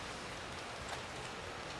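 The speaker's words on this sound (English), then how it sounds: "Oh, it's definitely raining." Steady rain falls, a dense, even hiss of drops on a surface with no pauses or voices.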